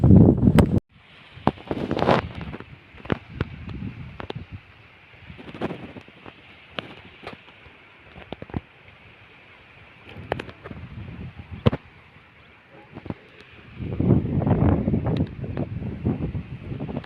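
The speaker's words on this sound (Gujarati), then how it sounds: "બહુ પવન ઉડે છે" Gusty wind blows across an onion field being irrigated on a farm, buffeting the microphone in uneven rushes with scattered knocks and rustles, louder toward the end.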